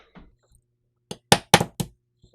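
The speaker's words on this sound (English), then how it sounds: "I'll pull out the extractor so I can clean under that." Small metallic clicks and clinks from pulling the extractor out of a Tanfoglio TZ75 pistol slide, a quick cluster of four sharp close taps after a faint earlier rattle, with no talk.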